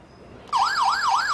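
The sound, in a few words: OUSKI X10 smart alarm siren triggered by door magnetic contact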